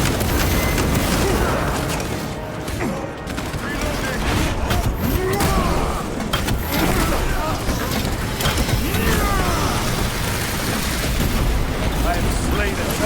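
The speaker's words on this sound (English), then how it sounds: "Crack grenade deployed." A crack grenade blast amid the chaos of battle in Warhammer Space Marines 2, with loud booming impacts, gunfire and clattering mechanisms layered densely over continuous combat noise and game voices.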